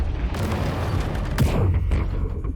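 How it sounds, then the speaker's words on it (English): In the War Robots Frontiers video game, a robot fires a barrage of missiles, heard as a dense rumble of booming blasts and crackling impacts with sharp whooshing bursts, loud and close throughout. "Shoots missiles."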